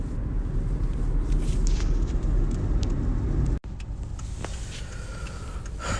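Steady road rumble and engine hum from inside a moving car, continuous and fairly loud, with a brief click partway through and no talking.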